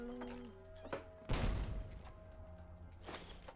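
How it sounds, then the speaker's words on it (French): An explosion in the game Fallout: New Vegas lands as a sudden heavy boom with a crackling rumble that fades over a couple of seconds, set against faint in-game ambience and tones. "Pourquoi il y a une explosion?"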